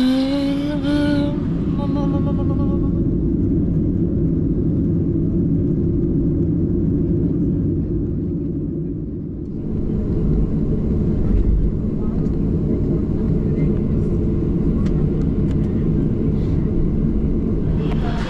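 Steady, loud low rumble inside an airplane cabin in flight, an unbroken engine and air drone filling the whole stretch, with a brief voice-like tone at the start.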